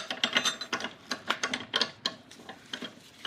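A ratchet wrench clicks in rapid uneven bursts while tightening a 12 mm fuel filter bolt on a 1999 Acura RL. The sound is close and dry, with brief pauses between strokes.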